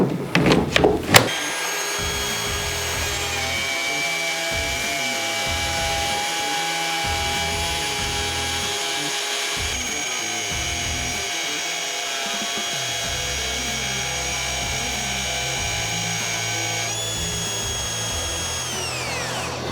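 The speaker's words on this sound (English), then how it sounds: "we've got the router set up on the worktop jig to make some plunge cuts into some 40mm worktop" A Makita 40V XGT RP001G cordless router on a worktop jig plunge-cuts into 40mm worktop, giving a loud, steady high-pitched motor whine and cutting roar after a brief start, running continuously until it spins down near the end.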